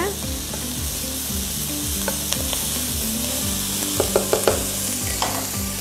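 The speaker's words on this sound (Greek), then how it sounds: "Ανακατεύουμε." Shrimp fricassee with lettuce is stirred in a hot pan, with a constant loud sizzle over repeated scraping strokes and light utensil taps against the pan.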